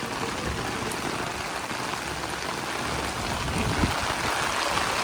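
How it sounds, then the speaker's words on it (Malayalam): Rain pours steadily at the back of the Naina Devi temple in Nainital during its festival, a dense, even wash of drops and trickling water with no speech. "മഴ കുറച്ചും കൂടെ ഇപ്പം കൂടിയിരിക്കുകയാണ്"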